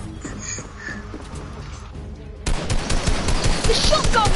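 Rapid gunfire in the video game Fortnite: a quieter, sparse opening gives way to a sudden dense, loud barrage of repeated shots that continues to the end, with game sound effects layered in.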